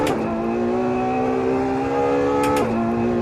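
A Ferrari 812 Superfast V12 engine in the racing game Assetto Corsa screams at high revs, holding a steady loud tone before a quick shift drops the pitch and it climbs again.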